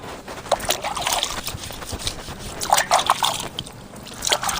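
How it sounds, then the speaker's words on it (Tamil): Drumsticks (moringa pods) are rinsed by hand in a vessel of water, producing close, intermittent splashes, sloshing and dribbling with light clinks. "முருங்கைக்காயை தண்ணியில் சுத்தம் பண்ணி எடுத்துக்கலாம்."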